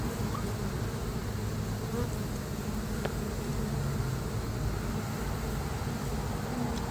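Honeybees fly around a hive at a trap-out setup in Lakeland, Florida, making a dense, continuous buzzing close by that holds steady throughout.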